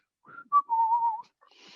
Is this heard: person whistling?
yes